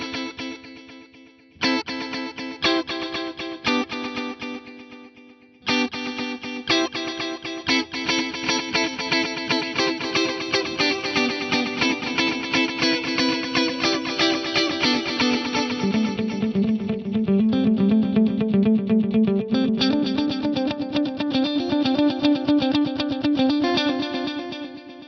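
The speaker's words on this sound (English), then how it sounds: "The quad tape delay is the one to go for if you want those kind of like space echo or multi-head echo style effects" A quad tape delay effect with four delay taps gives a guitar multi-head, space-echo style repeats. Dense, distorted chords and notes carry smeared echoes that pile up continuously, loud and alone, with brief gaps early on.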